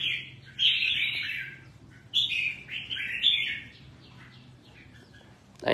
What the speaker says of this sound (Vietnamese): Đây này nè, nhiều chim lắm